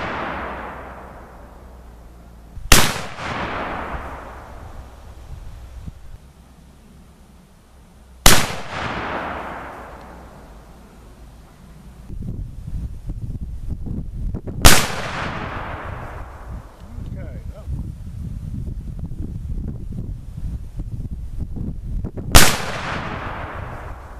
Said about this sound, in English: And this shooting is going to tell us a few things about this gun.